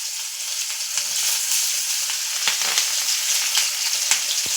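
Chopped onion sizzles in hot oil in a pan, a steady close crackle with occasional stirring scrapes and pops, no voices.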